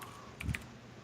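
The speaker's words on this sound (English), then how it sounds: "I was typing it right now" Brief burst of computer keyboard typing while playing Heroes of the Storm, a few quick faint clicks near the mic over quiet room noise.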